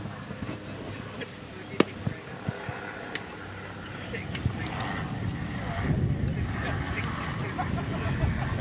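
Breezy outdoor wind rushes across a hot 90-degree junior Legion baseball field, blowing dirt, a steady low rumble with gusts swelling louder toward the end, with a few sharp knocks along the way.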